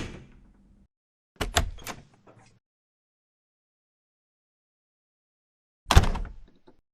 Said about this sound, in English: we'll do our generic door close